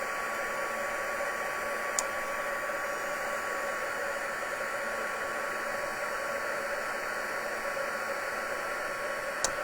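An embossing heat tool melts embossing powder until it turns glossy on a handmade hinge card, giving a steady, loud blowing hiss that holds level throughout, with a couple of tiny clicks and no voices.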